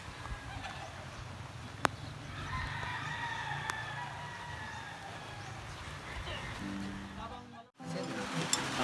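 Chickens cluck and a rooster crows in the distance over steady outdoor background noise at a farm in the rain, with a few faint sharp clicks.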